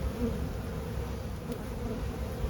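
A dense, steady buzz of honey bees swarms from an open hive being split early in the year, a continuous close hum with no pauses.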